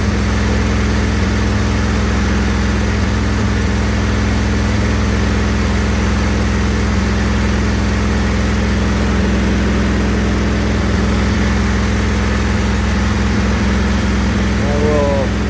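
A Briggs & Stratton replacement engine runs steadily at reduced throttle, a constant loud drone with a low hum and no change in pitch throughout.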